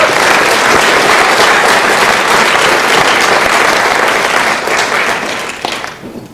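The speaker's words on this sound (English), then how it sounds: "Let's give them all a round of applause." A school audience at a spring sports awards ceremony applauds loudly, a dense, steady wash of clapping that holds for about five seconds, then thins and fades away at the end.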